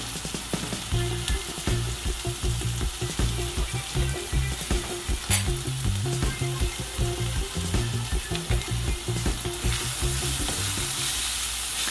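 A wooden spoon stirs kimchi rice in a hot pan, a continuous sizzle and frying crackle broken by repeated scraping and stirring strokes, loud and close with no voices.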